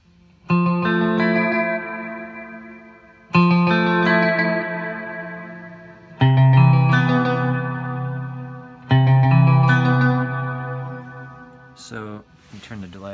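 A clean electric guitar plays four sustained chords through a Deco pedal's stereo doubler effect, each ringing out with a wide, shimmering doubled texture before the next strum; near and alone, no talk.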